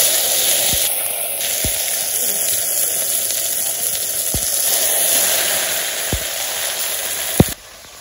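Okra and leafy greens fry in hot oil in a village kitchen, giving a loud, steady, close sizzle with a few soft low thumps scattered through it.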